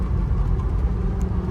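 Roush-modified Ford Crown Victoria with a naturally aspirated Cobra engine, a steady deep engine rumble and drone heard from inside the car, constant and fairly loud with no talking.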